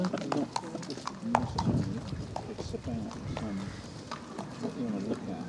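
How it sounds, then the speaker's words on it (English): Yearling racehorses, recently broken in, canter past with steady rhythmic hoofbeats at a moderate distance while people talk over them throughout. "All the yearlings are broken in and just started cantering now."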